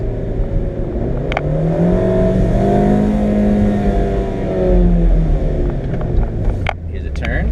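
Engine of a 2017 Fiat 124 Spider revving hard while driven in manual mode, rising and falling in pitch through gear changes, loud and close inside the car, with speech over it.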